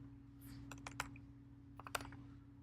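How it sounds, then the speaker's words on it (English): Short bursts of keystrokes on a Mac computer keyboard, quick uneven clicks in two small clusters, close and fairly quiet over a steady low hum. "I'm just going to type in Node."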